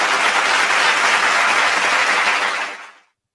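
A sustained burst of audience applause at a corporate International Women's Day celebration, a steady wash of many hands clapping together that fades out and ends in silence after about three seconds.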